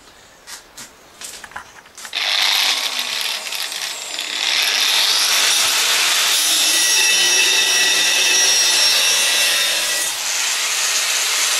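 A power tool saws through 80 by 40 steel for a clothesline post. A few short knocks come first, then a loud, continuous grinding cut runs steadily to the end, close and alone.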